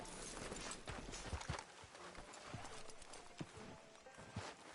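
Horse hooves in the Red Dead Redemption video game clip-clop in an irregular stepping rhythm at moderate distance, mixed with ambient town noise and faint background sounds.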